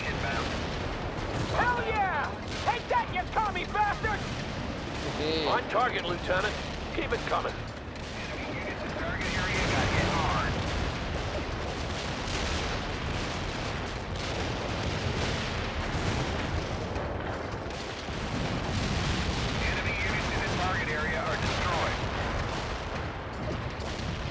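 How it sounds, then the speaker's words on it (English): An artillery barrage rolls on in the World in Conflict video game, with dense, continuous booming and crackling gunfire and explosions throughout, and voices heard beneath the din. "Fire mission received. Artillery barrage."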